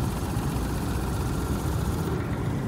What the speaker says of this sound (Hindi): हो गई है गाड़ी स्टार्ट, फाइनली हम खारी से बच गए।